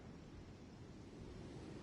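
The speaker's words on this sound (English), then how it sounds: "The sound of the waves in this familiar port." Ocean waves wash continuously at a harbor port in the Genshin Impact video game, a faint, steady broadband surf rumble with a windy hiss and no voices.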